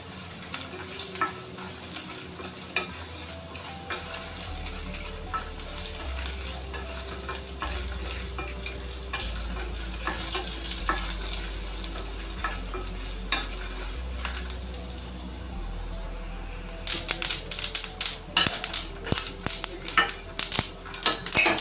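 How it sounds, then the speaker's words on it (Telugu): White sesame seeds crackle in a hot pan, frying with coriander seeds after dried red chillies and garlic, a steady fine sizzle with scattered pops that thickens into sharper, louder crackling near the end. "తెల్ల నువ్వులు అన్నీ చిటిపట్టలాడుతూ ఉన్నాయి"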